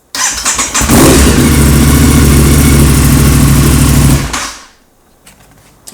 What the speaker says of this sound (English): We're gonna try firing it up.